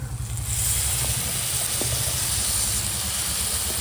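Ginger, garlic and green chili paste fries in a pan for mint rice, making a loud, steady hiss that rises sharply at the start and holds evenly close by.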